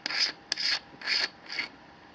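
A red filter screws onto the threaded 1.25-inch nosepiece of a precision ruby telescope turret, giving four short, soft, close rasping turns in a quiet room.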